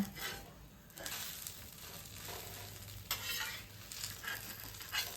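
A sweet corn dosa cooks on a pan, giving a steady, close sizzle with a few brief scraping stirs and louder flare-ups, heard alone without talk.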